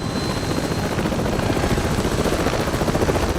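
The SA-2 Samson helicopter engine from Avatar sound design gives a loud, close rotor thump in a fast, steady rhythm over a dense turbine roar, continuous throughout.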